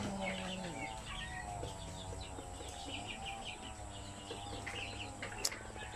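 Chickens cluck and call softly at a poultry farm selling chicks, a faint, continuous mix of fowl and small bird chirps in the background.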